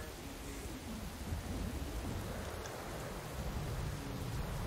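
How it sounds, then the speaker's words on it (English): Game rain and thunder in World of Warcraft form a steady, even hiss of rainfall with a low rumble underneath, faint and continuous without breaks. "And it's raining, too."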